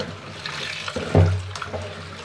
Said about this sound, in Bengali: সবজিগুলো ভালোভাবে ধুয়ে আমি অন্য একটি পাত্রে